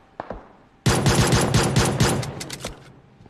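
Rapid pistol gunfire in the battle royale game BGMI, a dense burst of loud, close shots lasting about two seconds after a few faint scattered pops, then tapering off into quieter isolated shots.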